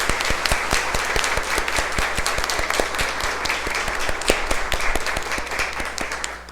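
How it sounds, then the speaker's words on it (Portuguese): An audience at a public awareness event applauds warmly, a broad wash of clapping with distinct close claps punctuating it, sustained throughout before tapering at the end. "peço uma salva de palmas para as nossas mulheres"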